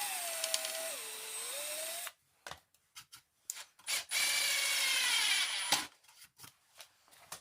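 A power driver sinks 3-inch screws into wood framing for the rear deck of a jon boat. Two sustained whining runs are broken up by short knocks and clicks, and the work sounds close by.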